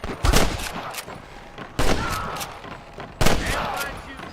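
Three loud gunshot blasts from Red Dead Redemption (2010) ring out at roughly even intervals. Each has a sharp crack followed by a long, rumbling echo, with a softer shot or two in between.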